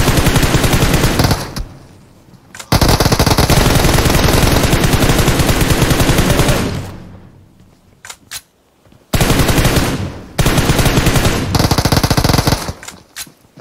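Loud automatic gunfire from the mobile shooter game PUBG Mobile, coming in long sustained bursts separated by short pauses and a few scattered single shots.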